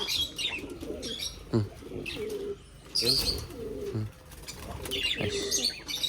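Pigeons coo softly nearby in short repeated phrases, mixed with small birds chirping and brief wing flaps, no talking.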